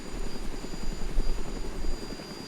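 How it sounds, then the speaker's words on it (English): A helicopter in the DayZ video game keeps up a steady rotor thump and engine drone, loud and continuous with no other sounds over it. "Here I am flying around in one."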